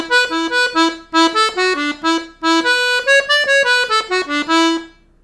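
Accordion plays the opening of Morrison's jig plainly without ornaments, a bright reedy melody in a lilting rhythm of short detached notes grouped in phrases with brief pauses, close and solo.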